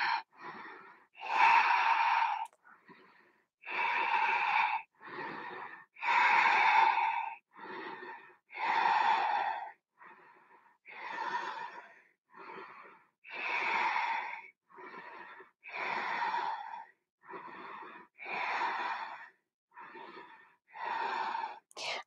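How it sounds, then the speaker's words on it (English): Slow, deep yoga breaths in a vinyasa flow, each long inhale and exhale heard clearly and close, repeating in a steady, even rhythm with no talking. "Take 10 deep breaths."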